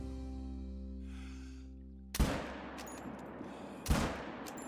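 A 6.5 rifle fires twice in a hunting video game, each shot a sharp loud crack with a rolling echo, following a steady low hum.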